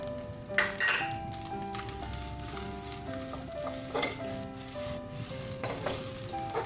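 Sliced shallots stir-fried with konjac and egg in a pan, a steady close sizzle with repeated clinks and scrapes of a spatula against the metal pan throughout.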